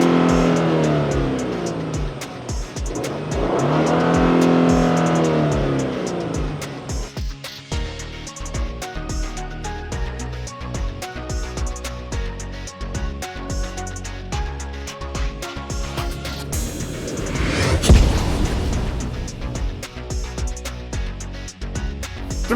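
Genesis GV70 sports trim with a 3.5 liter twin turbo V6 and 8-speed transmission accelerating hard, the engine note climbing loudly through gear changes with a deep surging roar heard from inside the car, peaking near the end.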